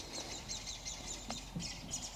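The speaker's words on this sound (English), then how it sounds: "Bird fight over there." Birds squabble near a vegetable garden where brassicas are being planted, with repeated high chirps and tweets over a soft outdoor hum, moderately distant and without talk.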